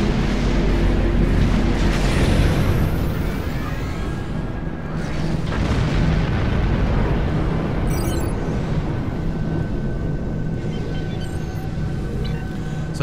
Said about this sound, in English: I just did a volley of torpedo spread.